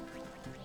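A nasty goose in the video game Wytchwood gives a short, harsh, nasal honk, a single loud and close call with no talk.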